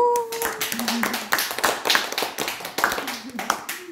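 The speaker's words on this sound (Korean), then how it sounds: "여러분 박수 한번 쳐주시겠습니다" An audience at a lecture claps in a dense, continuous burst of hand claps, while people speak over the applause.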